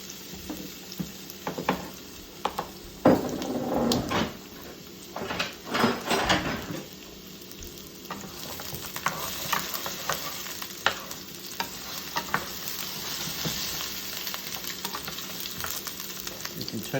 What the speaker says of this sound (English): You can turn it down now a little bit because they're frying.